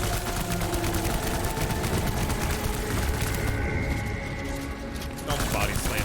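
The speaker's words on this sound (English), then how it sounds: "burn some of these assault rifles." Sustained rapid assault rifle fire from the video game Death Stranding, a dense continuous fusillade of shots that eases briefly near the end before resuming, with a voice talking over it.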